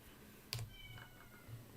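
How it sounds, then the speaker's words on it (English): A cat lets out a loud, sharp meow indoors, a single brief cry standing out over a quiet room hum, followed by faint softer sounds. "I don't know if you can hear my cat screaming"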